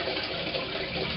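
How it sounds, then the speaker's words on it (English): Water poured into a bucket, a continuous close splashing gush lasting about a second. "I'm going to start out with a very small amount of water in the bottom of the bucket"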